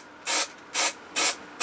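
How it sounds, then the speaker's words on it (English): Spray glue hisses out of an aerosol can onto a coconut-fur model tree in three clear, evenly spaced bursts, each about a quarter-second long, with a fourth burst starting right at the end, all close and fairly loud with quiet gaps between. "So I'm just using the spray glue again,"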